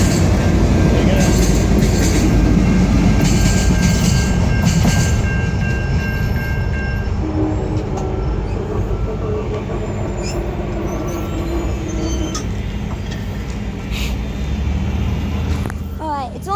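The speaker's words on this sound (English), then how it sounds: "it looks like North Carolina train is down at the station now." A North Carolina passenger train passes near a station with a loud continuous rumble and rolling wheel noise that slowly fades, with faint squeals and brief clanks, while people talk nearby.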